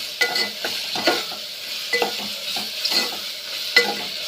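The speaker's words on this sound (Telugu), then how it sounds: "అల్లం వెల్లుల్లి వేగింది" Ginger and garlic fry in a pan with a bright, steady sizzle, punctuated by regular scraping stirs every half second or so, close and fairly loud with no talking.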